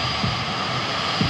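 Airbus A320neo airliner arriving on a runway, a steady broadband jet engine roar holding level throughout the short stretch with no voices.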